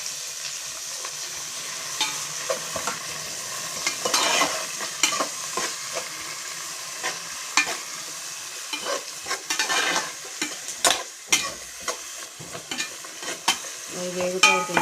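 Tomato and green chillies fry in a pan for a fish curry, a continuous close sizzle broken by frequent scraping stirs of a spoon against the pan.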